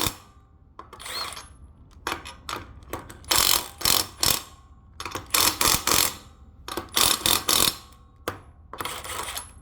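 Ratchet tightening the wheel nuts on a kayak trailer hub, working in an alternating pattern: quick bursts of clicking strokes repeat in close, loud clusters separated by short pauses.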